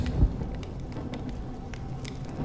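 Rain falling in the video game Honkai Star Rail, a soft steady patter with a low rumble, faint and constant throughout.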